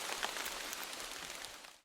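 Steady rain hisses as a dense, even patter for almost two seconds, a sound effect in a fantasy audio drama, then cuts off abruptly at the end; no voices.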